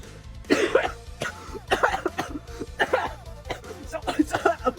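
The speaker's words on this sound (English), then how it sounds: "all this run made me cough." A few sharp coughs burst out one after another, close and fairly loud, with short breathy gaps between them.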